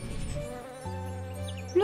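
Bees buzz in a steady drone, a low humming tone that shifts pitch midway, with a faint higher buzz near the end.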